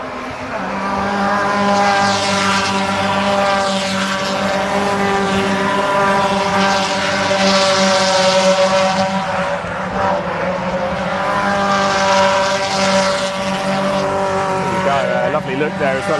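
Ford Fiesta race cars in a junior championship qualifying session at Cadwell Park circuit, engines droning loudly and continuously as several cars pass, with a commentator talking throughout.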